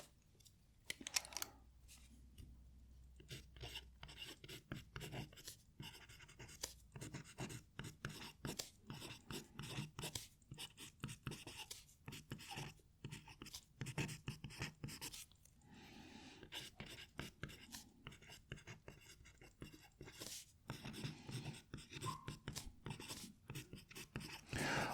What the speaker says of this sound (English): let's use that same pen on the Tomoe River paper.